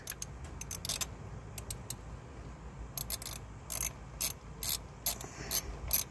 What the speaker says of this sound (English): I'm going to go ahead and take that nut off of there.